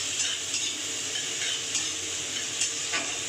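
Finely chopped medium-sized onion fries in a pan for a cauliflower fish curry, giving a steady soft sizzle with light stirring scrapes and a few brief utensil clinks, alone and fairly quiet.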